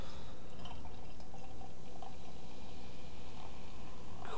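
Brewdog Zeitgeist black lager pours into a glass with a steady liquid gurgle and splashing drips, fairly close and continuous, with no talking.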